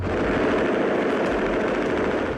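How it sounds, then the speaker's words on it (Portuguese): Rifle fire from a drug trafficker's gun in Rocinha, Rio de Janeiro, 1989, a continuous loud wash of rapid shots blended with broad noise, sustained and harsh throughout. "O traficante Naldo é flagrado atirando com um fuzil."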